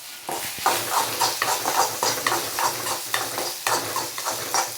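Egg bhurji being stirred into egg fried rice frying in a pan, giving a steady sizzle broken by regular scraping strokes of the spatula, close and fairly loud with no talking.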